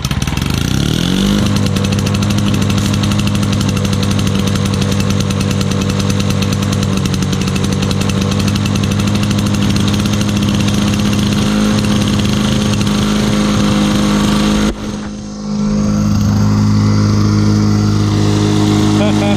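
A lawn mower left fueled all winter starts on the first pull with the choke on, then runs at a loud, steady roar close by before briefly dipping near the end.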